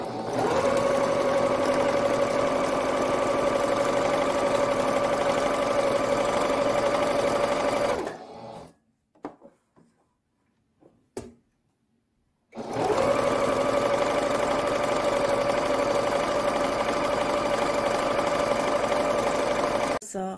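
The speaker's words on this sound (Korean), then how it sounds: "코가 있는 부분을 접어서 한번더 박아주도록 하겠습니다" A sewing machine stitches a fabric face mask in two long, loud, steady runs of rapid whirring, separated by a few seconds of near silence with faint handling clicks.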